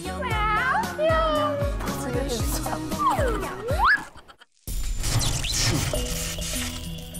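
A man imitates a cat, giving several drawn-out, pitch-sliding meows in quick succession, close and loud, during a lively game show in a cave setting, with other voices talking around him.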